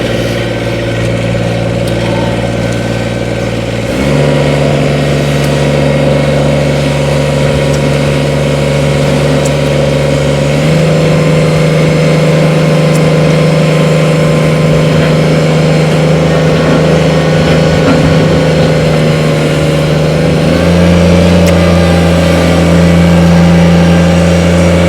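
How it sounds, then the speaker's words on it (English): A 2015 Kubota BX25D 23 hp diesel sub-compact tractor with loader and backhoe, its engine close and loud, idling briefly before rising into steady higher-revving running, with distinct step changes in engine pitch as it drives around. "I'm going to fire this tractor up, we're going to run around."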